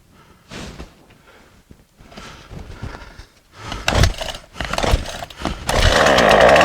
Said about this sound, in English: I'm hoping that you can hear me over the sound of the chainsaw.